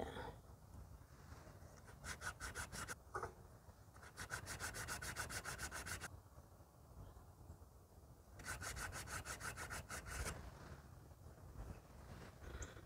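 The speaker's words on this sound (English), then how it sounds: "this is like a 220 grit sandpaper" Hand sanding with 220 grit sandpaper on a Briggs 5HP engine part, quiet repeated back-and-forth rubbing strokes in a few bursts, with no talking.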